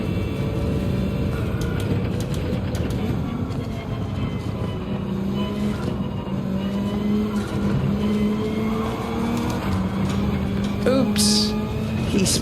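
A race car in Gran Turismo 7 spinning out with squealing tires, a continuous loud engine drone with tire noise throughout, under a talking voice.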